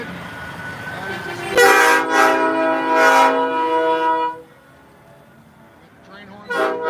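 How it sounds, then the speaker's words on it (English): An air horn blares with a loud sustained harmonic blast near a truck convoy featuring a 359 extended-hood truck, lasting a few seconds, then a brief second blast starts as it ends. "a train horn."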